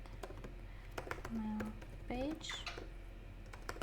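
Keys clatter in quick irregular bursts on a computer keyboard while a code comment is typed, with a voice talking over parts of it at close range.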